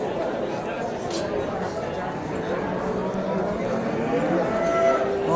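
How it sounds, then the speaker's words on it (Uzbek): Cows moo amid a busy livestock market, with people chattering nearby and the crowd noise steady underneath. "Sigir bozoriga kiramiz, xudo xolasa ham. Sigirlar ko'ramiz."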